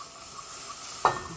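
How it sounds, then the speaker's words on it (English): Mushroom gravy sizzles as liquid is added to a hot pan, a steady faint hiss with one brief near clink or scrape of a utensil against the pan toward the end. "Stirring."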